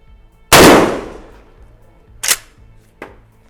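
A Mossberg Maverick 88 pump shotgun fires one loud, close blast with a long decaying boom at a shooting range. Two sharper mechanical clacks follow, likely the pump action cycling. No one speaks.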